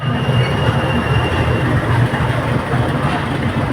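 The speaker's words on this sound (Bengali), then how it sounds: "আর ওদিকে ডাব্লু ডিএম ফোর ডি ইঞ্জিনের সঙ্গে একটা মালগাড়ি ঢুকছে" At New Alipurduar station, a goods train hauled by a WDM-4D diesel locomotive rolls in, heard as a close, loud, continuous rail rumble with low droning tones and no voices.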